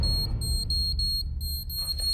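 An anti-pickpocket alarm device going off with a steady, loud, high-pitched electronic tone pulsing in repeated beeps, close by over a low background rumble.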